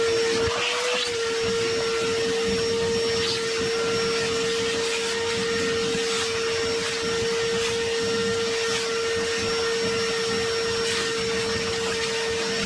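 A DeWalt DXV38S wet/dry vacuum hoovers up a big pile of woodwork sawdust in a garage workshop, a steady close drone with a strong constant motor whine, running alone throughout.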